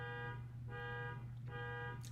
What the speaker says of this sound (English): That honking must be coming through.